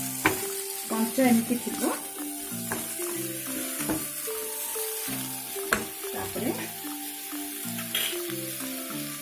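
Pizza bun filling frying in a pan, a steady close sizzle with scraping stirs and clinks of a spatula, while a person talks over it.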